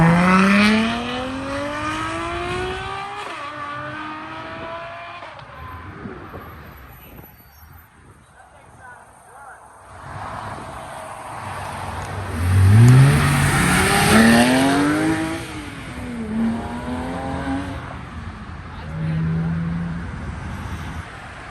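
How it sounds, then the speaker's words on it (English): A Ferrari supercar moves past at a supercar meet, with loud rising engine sweeps and a tire squeal that fade, then return as another strong pass. People talk over the engine noise. "Got this Ferrari."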